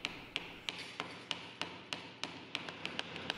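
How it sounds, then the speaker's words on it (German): Sheet metal being driven into a round bead with a wooden block rounded at the head, giving a steady series of sharp, close taps at a regular pace of roughly three or four per second. "Der Rand der Sicke wird dann mit einem Holzstück getrieben."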